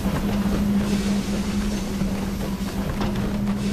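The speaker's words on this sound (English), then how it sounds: "Watch out for the trains." A train in the My Time at Sandrock video game rolls past with a steady low rumble and a sustained droning hum, moderately loud and continuous, without speech.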